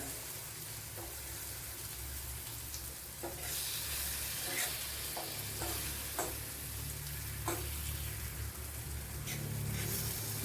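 Sweet potato frying in oil sizzles steadily while a steel spatula stirs and turns the pieces, giving occasional light metallic scrapes and taps over a constant hiss.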